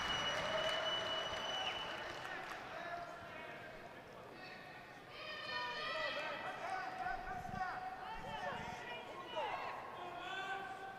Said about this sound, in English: the crowd is trying to ignite both of these guys here with the slow clap build up